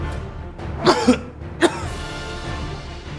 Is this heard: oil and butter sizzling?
no